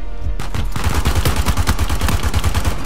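Rapid automatic gunfire in the online multiplayer shooter Uncharted 4, a fast stream of loud, punchy shots in quick succession with deep booming low end, continuous for nearly three seconds without talk.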